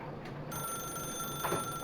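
A telephone rings in The Stanley Parable, a faint electronic ring with a thin sustained tone over a low room hum, lasting under two seconds, no speech.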